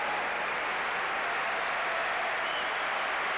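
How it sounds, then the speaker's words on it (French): Sustained applause from a crowd at the 2002 World Pétanque Championship final, honoring the Thailand team's third place, a steady dense wash of clapping with no break. "ces applaudissements que vous entendez, Marco, c'est pour récompenser l'équipe de Thaïlande qui vient de remporter la 3e place"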